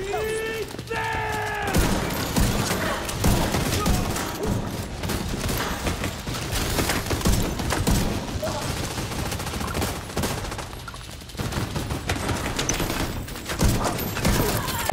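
Rapid bursts of gunfire crackle almost without pause in a hard-difficulty firefight in the video game Tom Clancy's The Division 2, mixed with game sound effects and loud throughout.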